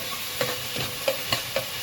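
Thinly sliced garlic cloves sizzle gently in a pan with a steady hiss, punctuated by a few soft scraping stirs at regular intervals.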